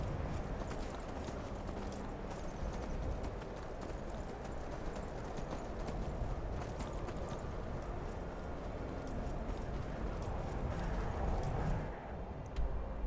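Horse hooves clip-clop steadily on the ground in Skyrim, a continuous rhythmic trotting that stays moderately close, with no talking over it.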